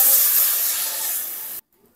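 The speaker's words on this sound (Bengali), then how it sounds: "এখন দিয়ে দেবো জল।" Water poured into a hot pan of fried potatoes and spices bursts into a loud, broad steaming hiss that holds for about a second and a half, then cuts off abruptly.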